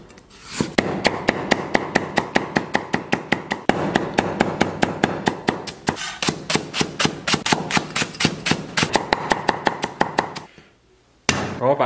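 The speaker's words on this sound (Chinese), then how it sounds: "姜给它切成片。" A kitchen knife slices ginger on a cutting board in a fast, steady run of sharp chops, close and loud, with brief pauses between series of cuts and no talking.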